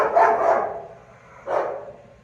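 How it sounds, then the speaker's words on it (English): Two loud dog barks close by, the first drawn out into a double bark, the second a single sharp bark after a brief pause. "Dogs over there are having some fun."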